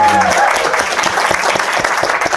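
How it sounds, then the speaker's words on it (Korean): An audience claps at a live Korean talk event on interest rates and property. The applause is dense and sustained, with crisp overlapping claps. A voice can be heard briefly at the start. "박수 한번 부탁드립니다."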